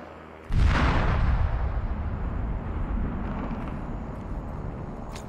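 A loud, sudden gun blast goes off in the online battle royale shooter Super People. Its booming report decays into a long rolling rumble that lasts several seconds.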